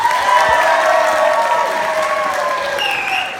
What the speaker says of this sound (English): If you felt it was the blue team, clap back!